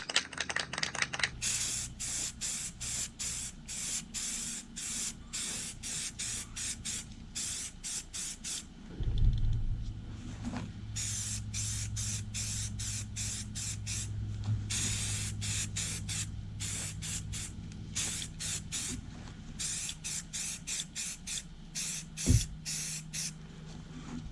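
Primer hisses from a spray can in short repeated bursts onto a boat propeller, close and fairly loud, with a longer continuous spray in the middle and brief gaps between passes.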